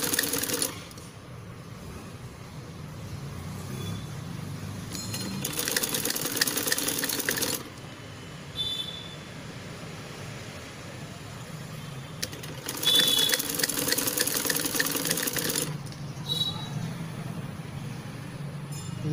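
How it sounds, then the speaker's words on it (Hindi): Sewing machine stitching the collar of a baby kurta, running in several sustained bursts of fast, even mechanical whirring and clatter, close and steady, separated by short pauses. "ये हमने कॉलर की स्टिचिंग कर ली है और अब हम इसको सूट पे लगाएंगे।"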